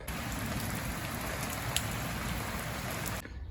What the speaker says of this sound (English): I got caught in a little bit of a thunderstorm